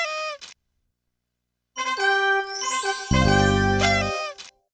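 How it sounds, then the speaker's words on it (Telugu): A party horn noise maker in a Barney party video game toots a sustained buzzy blast after bright chiming game music, loud and close with no talking over it. "అది పార్టీ హార్న్ లాగా ధ్వనిస్తుంది."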